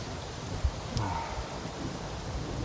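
Wind rushes steadily through a forest before rain, a broad continuous roar with a faint thump or two and no voices.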